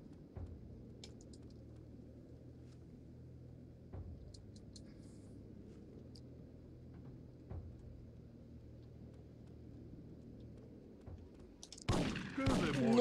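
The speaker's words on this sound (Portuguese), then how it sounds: "que tiro lindo, velho. Que tiro foi esse?" Gunfire in the game Syphon Filter 3, with a few faint muffled thumps over a quiet low hum before a sudden loud shotgun blast near the end.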